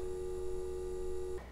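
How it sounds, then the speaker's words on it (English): Steady electrical hum from equipment in a room where lunch is being served, a constant tone with a bright high whine that drops away abruptly near the end. "Humming of electrical equipment."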